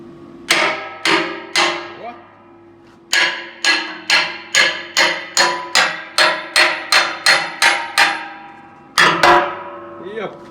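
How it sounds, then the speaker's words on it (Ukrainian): A hammer strikes a welded air compressor in a workshop in quick bursts of sharp, ringing taps, a steady run of a dozen blows between short pauses, loud and close. "Давайте молоточком поб'ємо."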